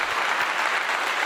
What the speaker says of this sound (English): applause to him